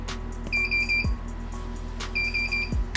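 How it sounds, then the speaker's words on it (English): Greenworks Pro 60V lawn mower failing to start gives repeated bursts of rapid high beeps, two sets about a second and a half apart, with clicks, close and clear over a low hum. "so you get a click and a lot of beeps"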